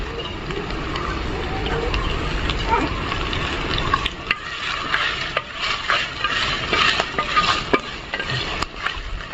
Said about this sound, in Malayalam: എന്നിട്ട് നമുക്ക് ഈ വെളിച്ചെണ്ണയിലിട്ടിട്ട് ഒന്ന് വഴറ്റിയെടുക്കണം